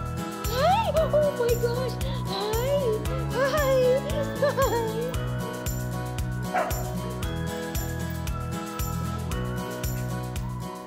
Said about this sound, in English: Their dog was very excited and greeted them.